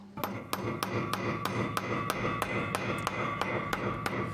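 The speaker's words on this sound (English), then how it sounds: "I want to get a nail into the bearer and I also want to get a nail into the joist" A hammer drives a nail into pre-drilled, hard, 100-year-old hardwood bearers and joists, striking repeatedly in a fast, even rhythm, about a dozen sharp metallic blows, close and loud.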